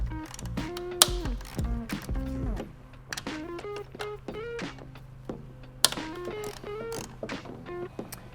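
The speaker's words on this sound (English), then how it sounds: "we're gonna take off these 2 10mm bolts that hold on the piping to the intercooler" Wrench removing two 10mm bolts from the intercooler piping on a 10th-gen Honda Civic Si, giving close, quiet ratcheting clicks and creaks in irregular bursts with occasional metallic knocks.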